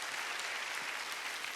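A church congregation claps together at a Sunday worship service, a dense, steady wash of applause that holds level and fills the short stretch with no voices over it.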